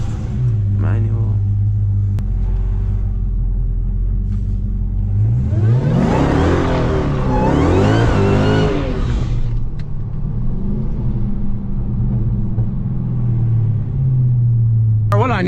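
A Dodge SRT Hellcat's engine idles with a low rumble, then surges into a loud, rising rev during a drift that lasts several seconds before settling back to idle, with voices talking inside the car.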